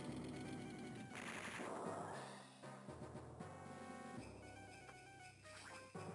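Quiet, retro-sounding video game gunfire from unit attacks in Advance Wars 2, rapid machine-gun bursts and shots layered over game music, continuing for several seconds.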